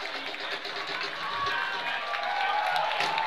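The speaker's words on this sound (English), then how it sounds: "Gets a big, big round of applause from the player, from the crowd." A football crowd applauds as a substituted wing player leaves the field during Chattanooga FC versus Maryland Bobcats, a broad, steady wash of distant clapping and cheering that swells slightly toward the end.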